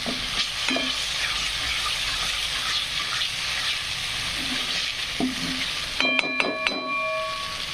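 Masala spices fry for a spicy mutton rassa, a dense, steady sizzle with a few stirring knocks, then a short burst of sharp metallic clinks at the end, no voices.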